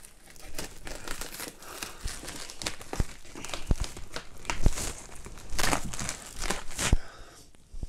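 Packaging crinkles and tears while a BenQ EW3280U 4K monitor is unboxed, with steady close rustling and crumpling broken by sharp crackles and snaps.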